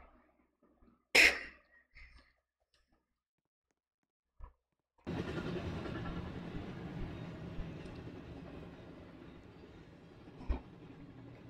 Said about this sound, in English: Get on that train. We're going to max speed with this one!